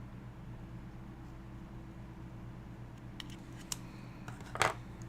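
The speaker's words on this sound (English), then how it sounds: "Like all scissors cut differently than other scissors." A few brief, crisp scissor snips cut through a steady background hum, close by and fairly quiet, with the clearest cuts bunched near the end.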